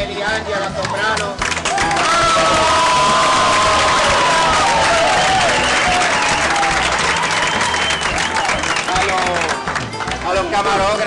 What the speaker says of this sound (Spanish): Yo quiero que le dé un aplauso a Meliangela Soprano.